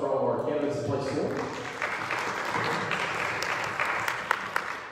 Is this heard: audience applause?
yes